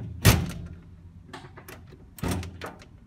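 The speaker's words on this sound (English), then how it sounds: "That's me opening the front door." The front door of an old Hotpoint washing machine is opened, giving two solid, close thunks about two seconds apart with faint clicks and rattles between them.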